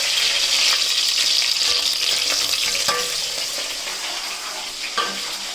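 Onion frying in hot oil in a pan while cooking fish curry, a loud dense sizzle with scattered stirring scrapes and clicks, easing slightly in volume toward the end.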